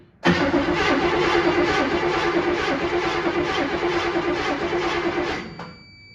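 A 1959 Chevrolet Impala engine cranks briefly then catches and runs steadily at a loud idle for several seconds before cutting off.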